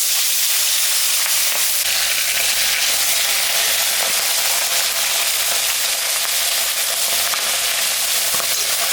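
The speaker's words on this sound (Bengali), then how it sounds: "তেল গরম হয়ে গেছে, মাছটা এখন আমি ছাড়ব।" Fish frying in hot mustard oil seasoned with salt and turmeric, a loud, dense, unbroken crackling sizzle heard close up for the whole stretch, with no voices.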